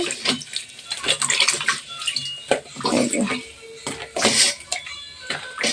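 Bean pods are washed in water before boiling, with steady close sloshing, splashing and rubbing sounds in a village kitchen.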